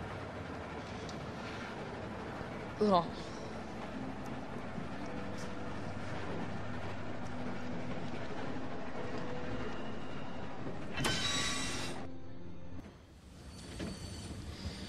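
A train rolls along steadily in The Walking Dead video game, a continuous rumble with rail clatter under a brief squeal, then a loud burst of noise near the end before the sound drops away.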